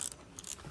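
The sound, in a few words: Shimano FX 4000 fishing reel grinding as it turns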